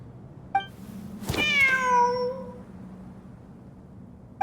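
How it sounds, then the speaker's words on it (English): A single drawn-out cat meow rises and then falls in the Genshin Impact game. It is clear and fairly close over a low steady background hum, with a short click before it and another at the end. "Wait, there it is! The cat!"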